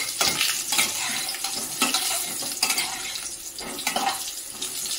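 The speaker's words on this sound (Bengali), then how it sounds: "সেই জন্য একটু আলুটাই শুধু ভেজে নিলাম" Potato pieces fry in oil in a pan, a crackling sizzle broken by repeated bursts of scraping and stirring with a utensil at close range.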